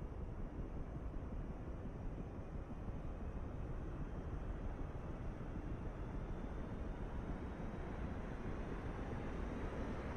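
A twin-engine Su-25T ground-attack jet in the DCS flight simulator starts an engine with a steady, loud, broad roar and rumble that holds evenly throughout, without voices.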